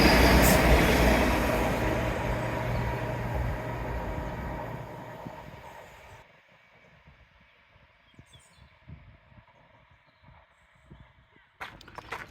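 A train roars past nearby, its loud rumble fading over several seconds into quieter clicks and outdoor background, with a brief burst at the end.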